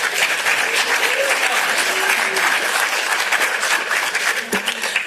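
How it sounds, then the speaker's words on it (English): A crowd at a regional television awards ceremony gives a round of sustained, even applause for a winning category, the clapping dense and continuous, easing slightly near the end. "a round of applause nonetheless"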